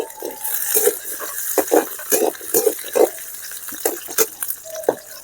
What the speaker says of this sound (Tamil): எல்லாம் வதங்கிட்டு இருக்குது.